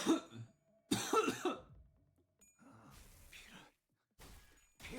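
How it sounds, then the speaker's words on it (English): Several close, harsh coughs and throat clearings come in separate bursts with short silences between them, fairly quiet overall. "I'm really sorry for the coughs."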